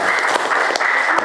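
A short burst of classroom applause, a group of students clapping together for a classmate during an Islamic faith lesson, dense and close for about a second.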